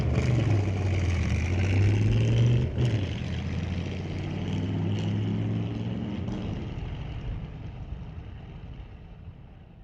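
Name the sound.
flathead V8 hot rod launching at drag race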